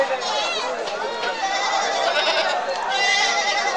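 Several goats bleat repeatedly, close and loud, their wavering cries overlapping with a busy crowd murmuring in the background at a goat market.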